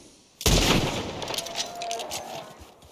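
Gunfire in the Red Dead Redemption 2 video game during a grizzly bear encounter, with a sudden loud burst of shots whose noisy tail and echo fade over the next couple of seconds.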